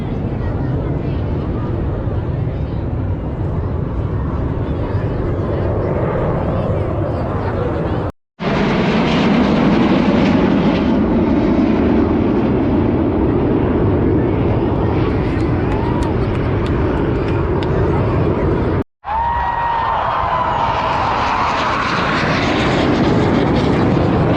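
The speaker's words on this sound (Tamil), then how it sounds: "team Surya Kiran fighter jet stunt பண்ணுறோம்" Roar of the Surya Kiran team's fighter jets performing aerobatic stunts at the Chennai air show 2024, a loud, continuous engine rumble that swells and fades as the jets pass, with brief gaps and crowd voices underneath.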